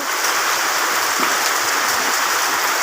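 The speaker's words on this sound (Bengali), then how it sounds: "এখন প্রচুর বৃষ্টি হচ্ছে দেখতে পাচ্ছেন প্রচুর বৃষ্টি হচ্ছে" Heavy morning rain pours down in Bangladesh, a dense, steady hiss of countless drops that stays loud and unbroken throughout, with no voices.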